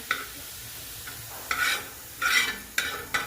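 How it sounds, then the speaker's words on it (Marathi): Onions frying in oil in a pan for a rustic Marathi mutton curry, stirred in several short scraping bursts over a steady low sizzle, close by with no talking. "तेल टाकून परतू द्यायचा. तर असं छान असं परतून घ्यायचा."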